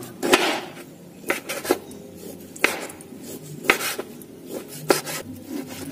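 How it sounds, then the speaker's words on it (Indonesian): A knife works through boneless chicken meat on a board, cutting it into thin small pieces in a run of crisp, irregular cutting taps and scrapes, close and clear without talk. "Kemudian kita potong-potong seperti ini ya. Potong tipis-tipis, kecil-kecil."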